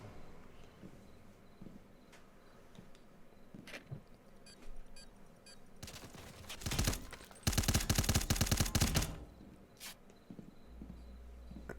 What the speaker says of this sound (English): And Weaz shooting down long range